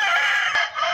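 A six-month-old Asil gamecock from a breeding farm in southern Peru crows once, loud and close, in a single sustained call that fills the moment with no voices around it.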